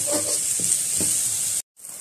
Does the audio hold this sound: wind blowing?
no